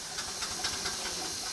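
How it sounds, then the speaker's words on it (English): Steam hisses steadily from a miniature railway steam engine that is failing to run, a continuous broadband rush with faint pulsing, moderately close and quiet. "is that steam from engine or from lads trying to fettle it?"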